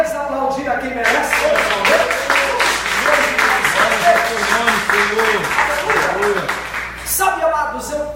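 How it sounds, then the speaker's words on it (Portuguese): Applause from a church congregation during a sermon, clapping running under a preacher's voice that talks throughout with strong vocal harmonics. "Você pode mais uma vez aplaudir a quem merece"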